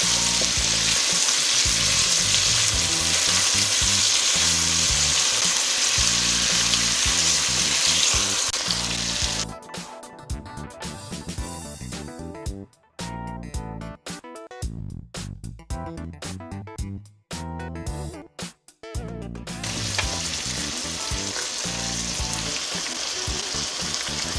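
Chicken pieces frying in hot oil in a pan for a ridge gourd chicken curry, giving a loud, steady, close sizzle. Stirring scrapes and clatters break through in the middle stretch.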